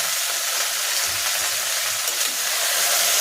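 Dried red chillies sizzle in hot oil for tempering, a loud, close, unbroken frying hiss that stays even throughout.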